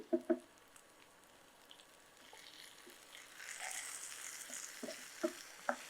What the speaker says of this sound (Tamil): இதை வந்து ஒரு மூணுலேருந்து நாலு நிமிஷம் லைட்டாக அப்படியே வதக்கி எடுத்துக்கோங்க